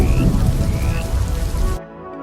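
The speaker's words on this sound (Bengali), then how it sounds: "বৃষ্টি ধীরে ধীরে আরো জোরে নামতে লাগলো" Heavy rain falls hard as a cartoon sound effect, a loud, close, steady roar that cuts off abruptly near the end, leaving near silence.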